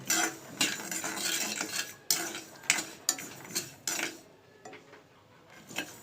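Peanuts and sesame seeds roasting in a pan while being stirred: repeated scraping, clinking strokes of a utensil against the metal, in irregular bursts, close and fairly quiet, with no talking.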